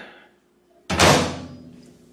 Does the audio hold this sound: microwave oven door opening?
yes